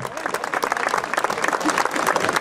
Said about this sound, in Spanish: Venga el aplauso y échale fuerte el aplauso.